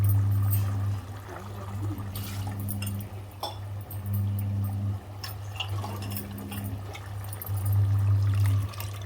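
Tamarind water pouring and trickling over fish in a pan, with a low steady hum underneath and soft splashes throughout.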